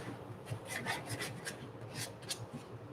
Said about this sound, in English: 120 sandpaper, so it's not the smoothest of grit. I'm just gonna soften up the sander marks.